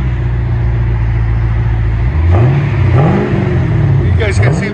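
A 2014 Chevy Camaro SS with a 6.2L V8 and dual Flowmaster Flow FX exhaust idles with a deep rumble, then blips the throttle in several rising and falling revs, loud and close.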